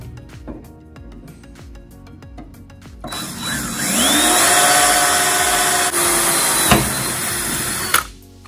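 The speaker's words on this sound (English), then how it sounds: "Drill the pilot." A power drill bores a pilot hole through a piece of angle during a custom wood bed build for a Willys Jeep, its steady loud whine running about five seconds after quieter workshop sounds and ending abruptly.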